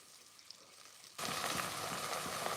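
Two large onions drop into a hot pan and burst into a loud, steady, close-up sizzle that stays dense and even after a quiet start.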